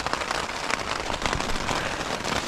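Steady rain drums on a camping tent along a mountain trail, a dense, continuous patter close overhead with no pauses and no voices.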